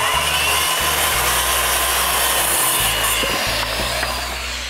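Power saw cutting through a wooden deck railing board, a loud rasping grind with repeated strokes and brief dips as the blade works through the wood, close by.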